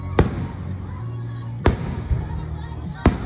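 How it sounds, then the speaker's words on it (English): Fireworks boom at Wild Adventures theme park in Valdosta, Georgia, with three sharp, loud bursts spaced over a steady outdoor rumble. A crowd murmurs faintly in the background. "Also, just to throw your entertainment purposes in this fireworks."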